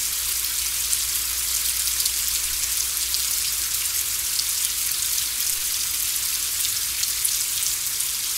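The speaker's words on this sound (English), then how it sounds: "We watch the Sarapiqui River rise as the rain just keeps coming." Heavy, unbroken rain pours down beside the Sarapiqui River in Costa Rica, a loud continuous patter and hiss of drops with no talking.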